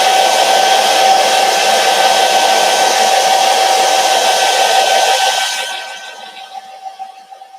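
A hair dryer blows on a chalk-painted craft-store wood shape, a loud close steady whirring roar that runs for several seconds and then winds down and fades, with no one talking.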